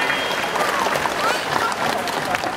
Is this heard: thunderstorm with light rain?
no